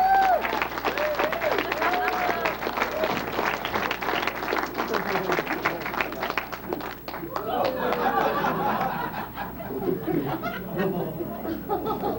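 Comedy club audience at an Improv show in Reno applauding a comedian's introduction, loose clapping mixed with chuckles, chatter and cheering voices throughout.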